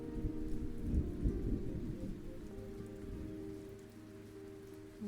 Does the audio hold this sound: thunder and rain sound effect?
yes